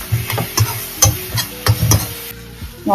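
Food sautéing in a pan, Indian gooseberry (amla) chutney cooking: a loud sizzle with rhythmic scraping strokes of a spoon stirring, about four strokes, then a brief quieter moment.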